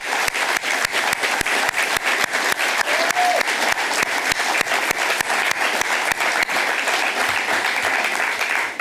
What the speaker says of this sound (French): je vous demande d'adresser un tonnerre d'applaudissements